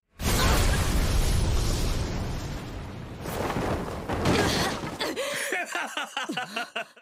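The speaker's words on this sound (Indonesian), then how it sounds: "Tiba-tiba dia terkena ledakan." A loud, sustained blast roars for several seconds, fading into rumbling debris and a few whooshing, sweeping tones at the end.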